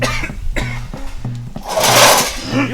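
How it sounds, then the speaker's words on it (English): A series of small, dry coughs from a young boy close by, repeated in quick succession, followed by a louder rustling burst. "Is that a little cough?"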